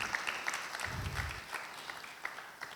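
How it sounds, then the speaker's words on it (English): An event audience at a PAPSS roadshow in Ghana claps in a faint, scattered round of applause, a few distinct hand claps standing out over low room murmur. "Another round of applause"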